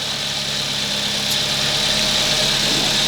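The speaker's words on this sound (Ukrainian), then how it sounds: "страшні звуки цепа" A loud, steady Suzuki Grand Vitara engine with lost compression running close by, with a harsh, metallic timing chain rattling clatter throughout.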